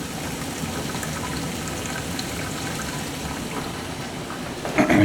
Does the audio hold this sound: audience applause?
no